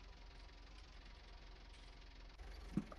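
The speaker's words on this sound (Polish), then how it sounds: "No, ten traktor to ciszej mi chodzi niż kombajn." Tractor engine in Farming Simulator 19, a quiet, steady low idling hum with a faint knocking texture and a small bump near the end.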